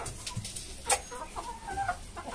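A hen clucks several times in short, soft bursts, fairly close, against a quiet outdoor background.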